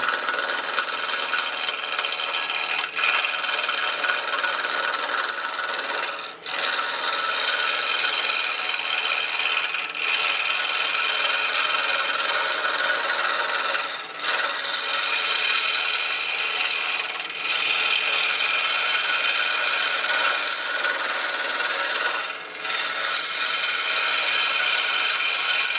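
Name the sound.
radius square cutter turning a pen blank round on a lathe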